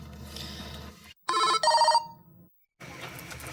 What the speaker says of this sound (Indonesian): Bentar, gue telepon Rizky dulu ya.